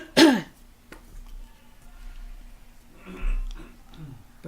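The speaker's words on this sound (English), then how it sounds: "Both coughing." A single sharp cough or throat clear up front, followed by quieter rough throat sounds and faint murmuring in a hushed room.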